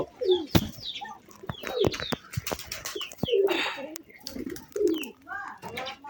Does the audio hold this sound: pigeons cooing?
yes